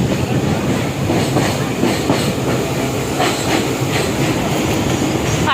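A train rolls across the long Farakka bridge near New Farakka Junction, a loud, steady rumble of wheels with rhythmic clickety-clack beats and a faint hiss throughout, with no talking.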